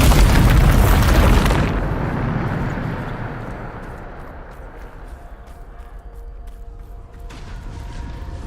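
A Bombarda blast spell fired in Hogwarts Legacy: one loud, deep boom opens the moment, then a rumbling tail slowly dies away over several seconds.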